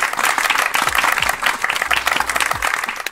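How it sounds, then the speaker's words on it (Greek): An audience applauds at the start of a Marvel quiz show with fans in Thessaloniki, loud and close, with individual sharp claps standing out of a lively, uneven burst of clapping. "Πάμε να ξεκινήσουμε με ένα χειροκρότημα."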